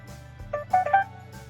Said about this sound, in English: that's my phone making too many noises